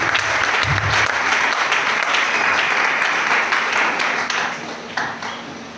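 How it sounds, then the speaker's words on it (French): A church congregation at a prayer and fasting service applauds loudly, with sustained dense clapping filling the room that trails off toward the end. "je vous demande d'acclamer le Seigneur"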